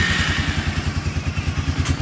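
An Arctic Cat Bearcat 454 snowmobile engine runs roughly, a loud, close, pulsing two-stroke drone with a steady uneven throb that stumbles near the end, with no talk over it.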